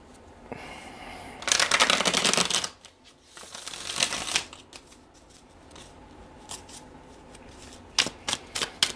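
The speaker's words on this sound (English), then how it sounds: "I'm shuffling this deck" Close-up crisp riffling of playing cards in several bursts, a long rapid shuffle followed by shorter flurries and a few quick snaps near the end.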